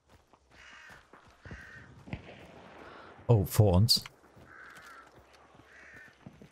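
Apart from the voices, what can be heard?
crow cawing in video game Hunt: Showdown 1896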